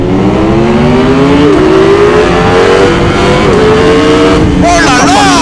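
A 2024 Ducati Streetfighter V4S full-option motorcycle accelerates hard up close, its loud engine note climbing steadily through the revs, with brief voices near the end.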